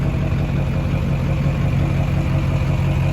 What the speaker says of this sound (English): I'm gonna give you guys a couple drive-bys,